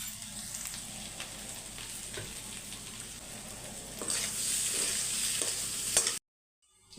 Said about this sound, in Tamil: இப்போ கரம் மசாலா போட்டு ஒரு 5 நிமிஷம் மிக்ஸ் பண்ணிங்கன்னு வச்சுக்கோங்க, நம்மளோட உருளைக்கிழங்கு சூப்பராக ரோஸ்ட் ஆகி வந்துடும்.